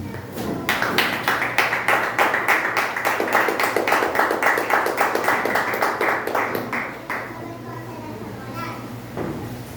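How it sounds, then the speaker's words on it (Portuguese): A church congregation claps in a steady rhythmic beat for several seconds, loud and close, then fades out; children's voices and talk sound faintly underneath. "se você puder aplaudir o Senhor, vai ser comigo"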